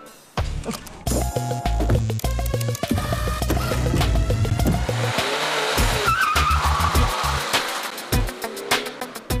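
A car from the Taxi 4 film drives fast with turbo engaged, its loud revving engine shifting pitch and its tires squealing, the sound continuous and close over background music.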